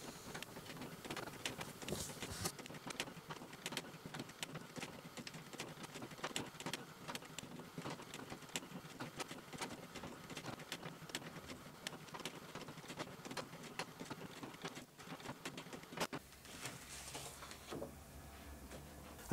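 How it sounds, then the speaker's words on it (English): Photo printer printing onto Fotospeed PF Lustre 275 paper, a long stretch of steady mechanical whirring scattered with small ticks and clicks as the sheet feeds through, moderately loud, shifting in tone near the end. "So now we're going to load the paper into the printer, press print, and watch it come out"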